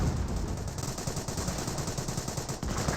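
Continuous machine-gun fire rattles in a Company of Heroes battle, with overlapping rapid bursts that sound dense and sustained for the whole stretch.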